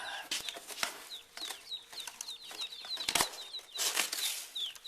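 Newly hatched ducklings in a shipping box make a continuous chorus of high, rapid peeps, close and busy, mixed with rustling and scuffling.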